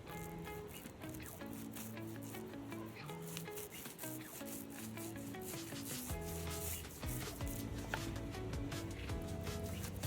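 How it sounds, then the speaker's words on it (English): Wood filler on a furniture table is sanded down with steady, continuous rubbing strokes, close and moderately loud, with no talking. "put some wood filler on some of the gouges and then sand that down"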